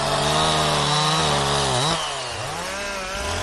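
A chainsaw cutting wood during cleanup after the 2023 Michigan ice storm, a loud close whining drone that bogs down as the chain bites into the wood and then drops to a lower idle.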